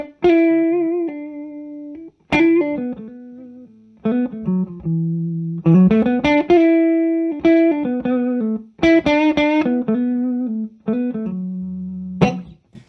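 Electric guitar played through a Dr Z Maz amp with the reverb switched off, a dry run of sustained chords and picked notes ringing out clearly, each phrase cut off sharply before the next starts, with no talking.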